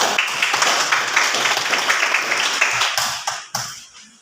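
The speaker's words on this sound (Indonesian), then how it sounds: "Tepuk tangan untuk kelompok 2" A classroom of students claps for a student group after its presentation, a dense, steady patter of many hands that thins and breaks off near the end.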